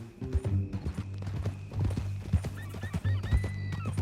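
Horse hooves clip-clopping at a walk in Red Dead Redemption 2, a steady close rhythm of hoofbeats with an occasional whinny, over low ambient music and light game sound.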